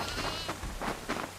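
A goat bleats in the horror video game Devour, a few wavering nasal bleats in quick succession, moderately loud against a steady low background hum.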